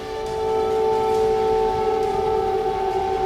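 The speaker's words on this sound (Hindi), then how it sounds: "इसके बावजूद सोमवार की रात कीव में अलर्ट सायरन की आवाज गूंजने लगी।" An air raid alert siren wails over Kyiv at night, a steady sustained tone rising in loudness and holding at an even level, distant and outdoors, with no voices over it.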